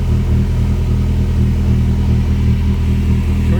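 A Subaru engine idles and runs steadily on a tuning bench, a loud, close, continuous low rumble with a constant even tone throughout.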